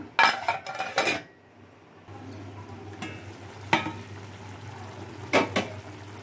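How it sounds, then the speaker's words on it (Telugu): A lid is set on a pot of simmering fish curry, with a cluster of close metallic clanks and clatters followed by a steady low hum and a couple of sharp clinks. "ఇప్పుడైతే మూత పెట్టుకుంటున్నాను."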